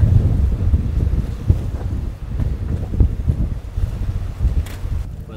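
Steady wind buffets the microphone on the open deck of a boat at sea off the limestone cliffs of Palawan, a continuous low rumble and rush with surging gusts throughout.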